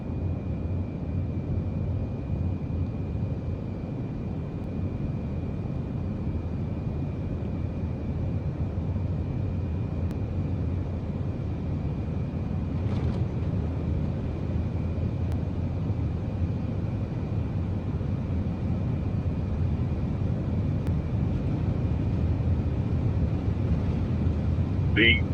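Engines of a Swiss Airbus A340-300 on its takeoff roll in Microsoft Flight Simulator: a steady, loud low roar with a constant whine, building slightly over time, while a voice talks over it.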